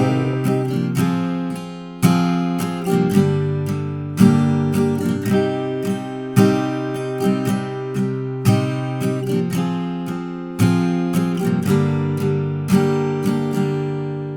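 Strummed acoustic guitar plays the intro chord progression of a song, each chord struck rhythmically, close and steady, with no voices.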